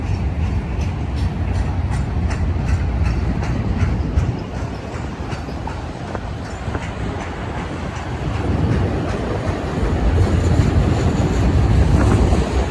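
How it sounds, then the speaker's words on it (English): An autorack freight train rolls past on the main track at Blue Cut, a continuous loud rumble with rhythmic wheel clatter and wind buffeting the microphone, swelling louder toward the end. "Starting to see the end of this train on main track number 1."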